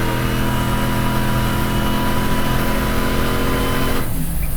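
A Vigilante Jeep Grand Wagoneer engine pulls hard and loud through its gears, a continuous close-up roar that drops away sharply near the end as the shift comes.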